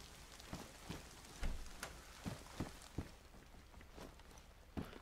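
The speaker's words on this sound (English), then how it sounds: "Oh, it's freaking raining." Rain falling in the DayZ video game, a steady wash of drops with soft footstep-like thuds scattered through it, fairly quiet and without talk.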